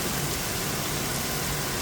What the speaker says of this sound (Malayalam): വലിയ മഴയാണ്.